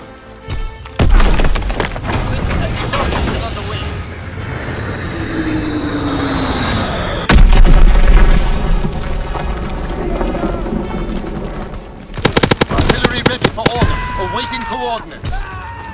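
Artillery battery firing in the video game Call of Duty WWII, a few loud heavy booms spaced several seconds apart, each trailing into a rumbling roar, with a whooshing tone in between and a voice under the din.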